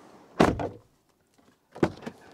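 An MG HEV car door is slammed shut hard twice, each time a loud, close, solid thump with a brief rattle. A short quiet gap separates the two slams.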